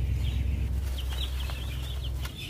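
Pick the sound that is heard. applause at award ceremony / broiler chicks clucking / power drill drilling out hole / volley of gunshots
broiler chicks clucking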